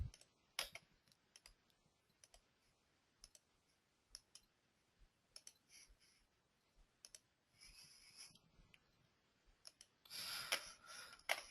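Sharp computer mouse clicks, close and quiet, come one at a time at irregular intervals, with a denser run of clicks near the end.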